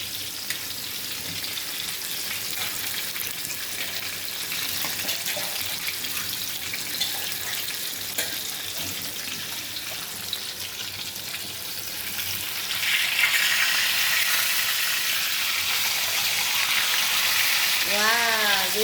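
Fish frying in plenty of oil in an iron pan, a continuous crackling sizzle that grows louder and denser partway through, heard close with occasional faint voices in the background.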